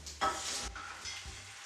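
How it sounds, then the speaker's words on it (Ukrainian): Boiled salmon sizzles in a hot pan with a brief burst of frying and quiet stirring noises, fairly soft and close. "І викладаю відварену сьомгу."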